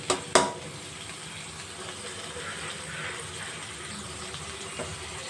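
Ground spices with asafoetida frying over a low gas flame in a pan, a soft continuous sizzle with a couple of sharp utensil knocks near the start.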